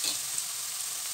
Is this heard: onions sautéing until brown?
yes